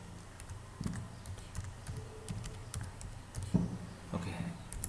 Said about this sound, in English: type this word